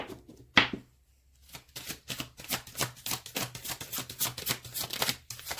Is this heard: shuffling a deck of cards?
yes